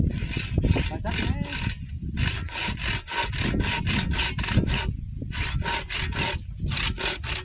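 A handsaw cuts through wood for a garden fence in a fast, even rhythm of rasping strokes, loud and close, with brief pauses between bursts and talk underneath.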